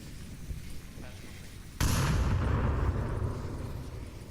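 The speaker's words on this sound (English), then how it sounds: "All these nades coming out on just assumed positions from Fury." A grenade blast erupts in the Onward VR shooter during a competitive league match, a sudden loud boom followed by a sustained rumbling roar after a stretch of quieter battlefield noise.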